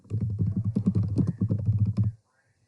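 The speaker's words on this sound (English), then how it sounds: "So I'll go ahead and type that in." Rapid, steady typing on a computer keyboard, a dense run of close, loud key clicks lasting about two seconds before stopping abruptly.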